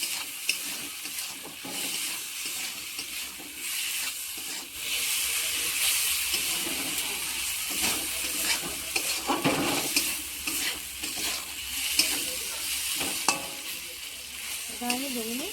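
Food sautéed and stirred in a pan while being cooked down, with a steady sizzle and hiss running throughout and scraping stirring strokes rising above it at close range, no talking.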